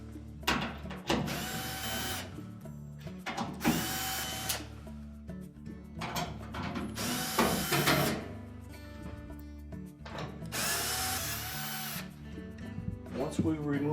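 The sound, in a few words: removing screws from Whirlpool washer back panel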